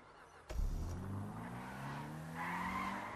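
A car in GTA 5 starts off abruptly and skids, with tires squealing as the engine revs climb in rising, layered tones, loud and sustained for about two and a half seconds.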